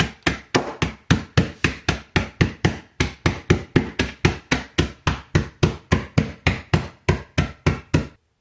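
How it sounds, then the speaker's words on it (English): Steady, rapid kitchen hammer blows crush nuts in a bag, about three per second, loud and close, with no talk. "Got my kitchen hammer."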